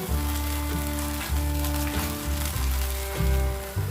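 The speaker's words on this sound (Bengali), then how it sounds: "মশলাটা আবার 5 মিনিট মতন ভেজেছি" Korma masala sizzling and frying in a pan while being stirred and mixed, a steady loud crackle with soft scraping strokes, used in cooking Bengali hilsa fish korma, heard alone.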